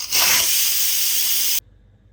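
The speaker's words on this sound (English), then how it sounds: "And then you just want to quickly release the pressure." A loud, steady hiss of steam rushing out under pressure from an Instant Pot quick release for about a second and a half, then cutting off abruptly to near silence.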